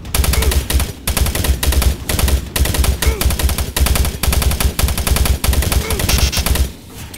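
Sustained automatic gunfire from enemies attacking from behind in the sci-fi horror shooter game Doom 3, loud rapid bursts with brief pauses, running continuously for several seconds.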